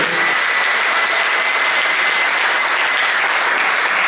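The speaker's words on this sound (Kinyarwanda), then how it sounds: "Yimera amashyi kuko iduhagazeho." A church congregation applauds loudly and steadily, a dense wash of many hands clapping together that keeps going without a break, and no one speaks over it.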